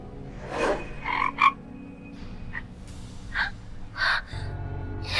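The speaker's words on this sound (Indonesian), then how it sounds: "Kodok hijau? Kodok. Kodok keluar, kodok." A green frog croaks in a series of short, irregular calls, some raspy and some brief chirps, close by against a low background hum.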